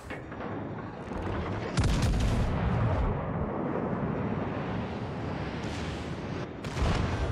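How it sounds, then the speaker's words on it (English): Warship secondary guns fire in the naval video game World of Warships Legends, a dense run of booming, rumbling volleys with heavier blasts near the start and end, loud and continuous with no talking. "Secondaries are firing at us."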